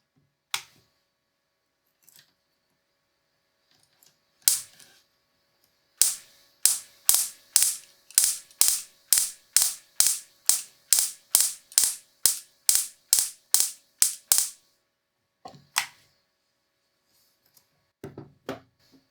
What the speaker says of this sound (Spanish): al girar el distribuidor y el encender la batería, tiene que haber chispa en la bujía de pruebas.